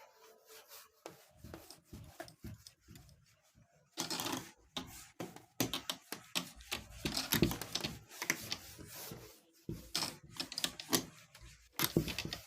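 Board eraser rubbing across a classroom writing board during a maths lesson, a series of dry scraping strokes in bursts, close and fairly loud, with short pauses between passes.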